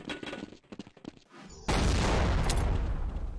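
A grenade blast in Fallout 76 following scattered clicks and small impacts, then a sudden loud, sustained roaring explosion that fills the rest.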